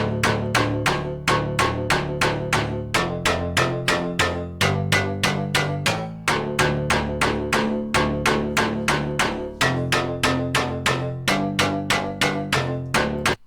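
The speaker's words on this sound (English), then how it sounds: "So yeah, just a cool little bass pluck pattern," A layered bass pluck pattern built from a Serum bank in FL Studio plays as a steady, rhythmic loop of sharp, punchy plucked notes with a bright attack, repeating cleanly with no voices.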